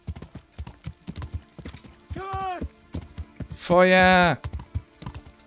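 Hooves of the horse Pebbles clip-clop steadily along a path in Kingdom Come: Deliverance, close and rhythmic, broken by two loud whinnies while someone talks over the gait.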